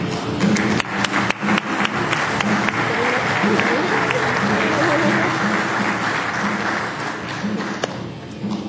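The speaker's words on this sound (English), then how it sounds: "we would like to give a big round of applause and congratulations to Algarere Foods" Audience applause at an ESEA 2009 awards event, a sustained wash of clapping lasting several seconds, loud and close, with scattered sharper claps and voices mixed in.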